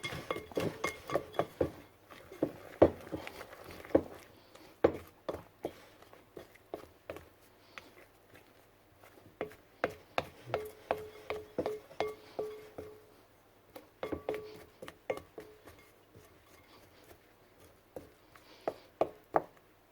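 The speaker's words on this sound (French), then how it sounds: "nous allons mélanger cette fois-ci avec la cuillère en bois" A wooden spoon stirs cookie dough for soft cookies in a bowl, giving close, irregular knocks and clinks against the bowl in uneven bursts, with brief pauses between strokes.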